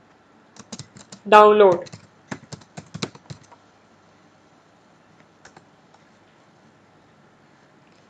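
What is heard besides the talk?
typing on a computer keyboard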